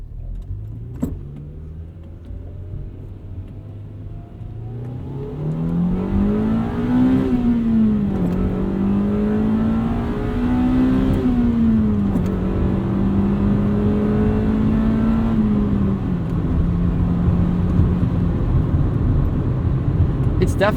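A Honda Civic Si engine pulls hard through the gears, its note rising steadily and climbing in pitch with each shift, heard close and loud from inside the car for most of the stretch.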